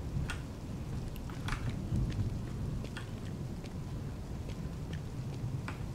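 Heavy rain and rolling thunder in the video game Investigator, a steady dense downpour with scattered sharp crackles and low rumbles throughout, no voices.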